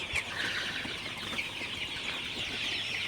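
Sonali hybrid chickens, about 36 days old, cluck and murmur softly all together in a raised poultry shed, a steady low chatter of many birds with faint rustling.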